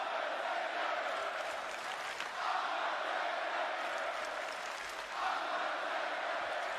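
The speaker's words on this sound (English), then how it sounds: "just listen to a crowd that is cheering for The Undertaker suddenly take a turn" A large wrestling arena crowd at a Crown Jewel event, a dense sustained roar of cheering and chanting that swells and dips slightly, distant and muffled.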